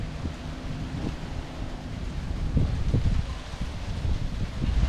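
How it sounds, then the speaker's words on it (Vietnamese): Strong seasonal wind blows steadily across a riverbank in Bình Đại, Bến Tre, a continuous low rushing roar with microphone buffeting. It swells in gusts and grows louder toward the end, with no talk. "Giờ gió chướng nè, ở ngoài đó gió vô rất là mát nha các bạn"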